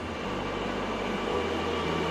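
A Kochi metro train runs with a steady, loud rumbling whir and a low droning hum that shifts pitch slightly partway through.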